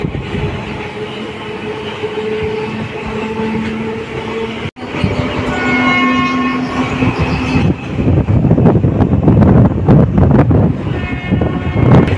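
A Tambaram-Villupuram MEMU express train rumbles loudly with clattering wheels and tonal hums, shifting pitch as it rolls into Vikravandi railway station and slows, a continuous close mechanical roar.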